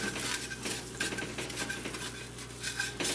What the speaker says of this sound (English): the whole objective is to deglaze that bottom pan